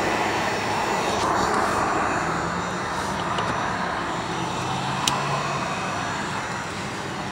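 A heat gun blows continuously, a steady roaring rush of air heard up close with slight swells in level and a faint click near the end.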